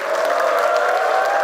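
Loud, sustained applause fills the hall at a blockchain industry association's founding general assembly, a dense steady roar of many hands with possible cheering mixed in.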